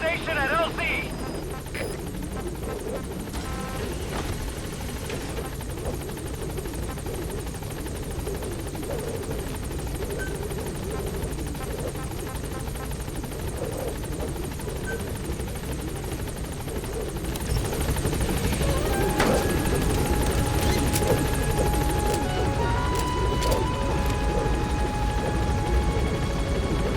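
A helicopter in Metal Gear Solid V hovers with a steady rotor drone and turbine whine, swelling louder in the second half, while a voice speaks over it.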